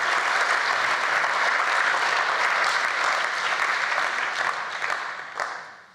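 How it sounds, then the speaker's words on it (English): A gala audience at a rhino fundraiser applauds a donor with a full, steady roar of clapping from many people that tapers off over the final second. "So I think she deserves a round of applause."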